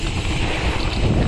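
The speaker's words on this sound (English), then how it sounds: "It's a bit too windy for actual big tricks" Strong wind on open water roars and buffets the microphone in a continuous, loud rush with no voices.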